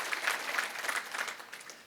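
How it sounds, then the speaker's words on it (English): Audience applause for award recipients at a regional chamber of commerce annual meeting, a steady patter of many hands clapping at moderate loudness without pause, alone. "Can we please give all of our award recipients one more round of applause?"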